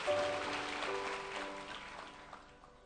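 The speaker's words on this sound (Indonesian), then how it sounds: "Beri tepuk tangan sekali lagi" A congregation at a church worship service claps together in a faint, steady wash of applause that lasts a few seconds, while soft sustained music tones play underneath.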